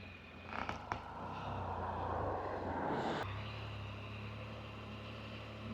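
A small drone flies along a country lane, giving a steady droning hum, moderately loud, under light background noise.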